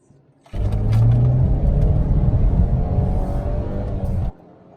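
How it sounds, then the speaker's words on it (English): The engine of a 2019 Mercedes-Benz GLC300 kicks in abruptly and pulls hard under acceleration, a loud, steady low rumble and whir lasting several seconds before cutting back to quiet. "But the engine response is really good."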